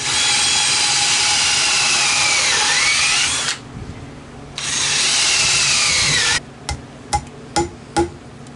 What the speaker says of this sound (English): let me finish drilling this out